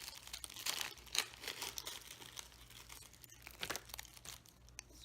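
Plastic and paper packaging of an IV saline flush and lock being torn and crinkled open by hand, with irregular close rustles and crackles and no talking.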